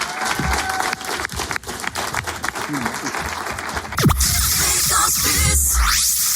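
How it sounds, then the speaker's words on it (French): Scattered claps from a public studio audience at a live radio broadcast, heard under talk before a louder, busier stretch of sound takes over. "Applaudissements en tout cas pour Nico Liliu"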